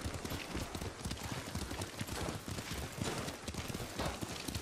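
Horse hooves clip-clop at a steady trotting rhythm while riding in the Ghost of Tsushima video game, fairly close and quiet, with no talk over them.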